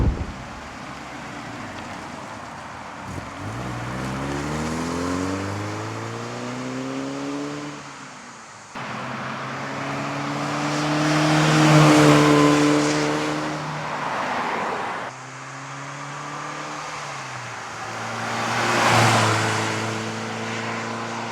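A 1967 Alfa Romeo Duetto Spider roadster makes several flybys, its engine note rising as it approaches and fading as it passes, three separate passes loud and close with no talking.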